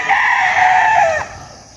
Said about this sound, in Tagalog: napakalawak din ng manukan ni Art Canlas, ng Ninong Art Canlas.